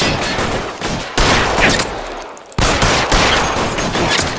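Dense gunfire from an L.A. Noire shootout, a loud continuous fusillade of overlapping shots with brief lulls and renewed bursts, no talk.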